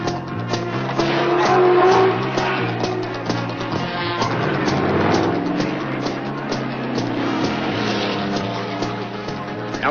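Touring race cars roar past and brake hard at Bathurst in 1975, engines loud and continuous with a steady drone throughout, a commentator talking over them.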